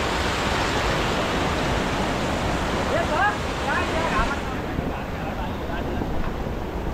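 Village waterfall where people gather to swim, a loud, constant broadband roar of falling water close by, with brief faint voices partly buried in the rush.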